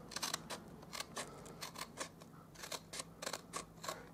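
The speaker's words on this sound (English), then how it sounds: "I'm just going to follow that curve line down the bottom with my scissors" Scissors snipping through paper in a steady series of close, crisp cuts, each with a faint rustle of the sheet.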